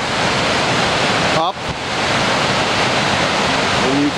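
The Boulder River near Big Timber, Montana rushes steadily in a loud, close broadband roar that fills the whole stretch, with a brief dip and a faint voice partway through.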